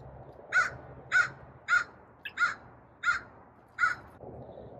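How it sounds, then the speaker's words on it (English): A crow caws about six times at a steady, evenly spaced rhythm near chickens in fallen leaves, each call harsh and moderately loud against a quiet outdoor background, after a hawk has returned. "you can hear the crow is not very happy about it"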